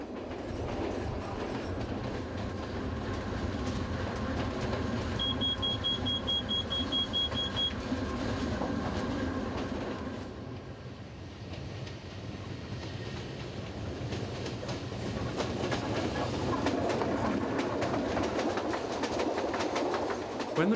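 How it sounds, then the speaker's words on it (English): A train on the Soller Railway in Mallorca rumbles and rattles steadily through a tunnel, a constant loud clatter with rhythmic clicks of wheels, briefly quieter midway. "The noise of the train as it rattles through the tunnel is inescapable."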